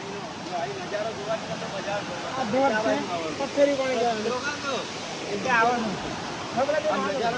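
A mountain stream at Jatashankar near Junagadh, on the old Girnar steps, rushes in a steady broadband wash while people talk over it close by.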